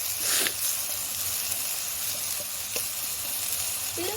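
Broad beans dry-fry in a pan with little or no oil, giving a steady, faint, close sizzle and hiss with a few light clicks and scrapes.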